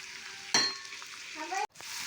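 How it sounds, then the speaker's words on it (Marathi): Capsicum sautéed on high flame with onion for dhaba-style paneer bhurji, a short close sizzle with a sharp spatula scrape and brief stirring noises. "हाय फ्लेमवर ढोबळी मिरची चांगली परतून घ्यायची आहे"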